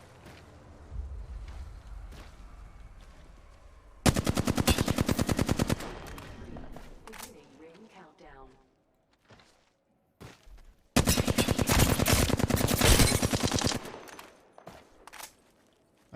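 Rapid automatic gunfire from a video game gun bursts out in two long, loud sustained volleys separated by quieter shuffling and movement sounds, with no talking.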